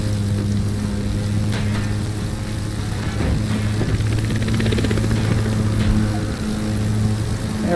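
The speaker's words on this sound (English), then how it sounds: "I wish that guy would move his damn helicopter" A helicopter in the racing video game The Crew 2 gives off a steady, loud rotor-and-engine drone with a constant tonal hum. It stays close and unbroken throughout, with no talk.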